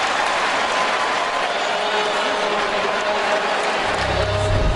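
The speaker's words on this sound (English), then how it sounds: "So Lewis gives the Saints fans a reason to cheer." Fans of the New Orleans Saints in a football stadium roar and cheer after an interception, a dense, sustained wall of crowd noise with a low rumble that swells toward the end.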